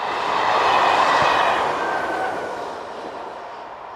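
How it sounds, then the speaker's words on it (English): Class Z9500 local train units from 1982 passing close by, a broad rushing roar of wheels and motors that swells quickly and then eases off over a few seconds, with no voices. "local services are usually formed of these Class Z9500 units dating from 1982"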